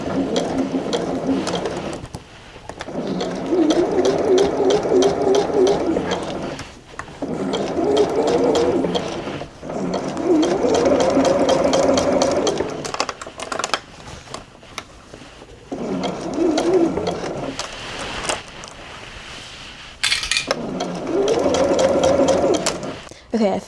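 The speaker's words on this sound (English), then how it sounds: "now I think I just sew all along here" A Juki sewing machine stitches through thick denim from thrifted jeans in long loud whirring bursts with short pauses between runs, close up and mostly on its own.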